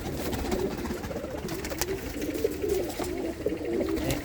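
Pigeons from a home flock of flying pigeons coo in a low, soft, steady stream over a busy background of other birds, without pause for the whole stretch.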